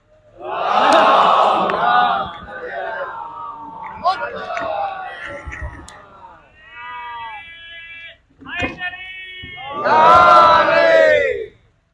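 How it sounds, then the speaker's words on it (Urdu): A crowd at a Shia majlis shouts religious slogans in loud, rhythmic bursts, with a lead voice calling out between them; the chanting swells at the start and again near the end. "ان کے استقبال میں حضرات آپ بلندترین نعرے ضرور پڑھیں"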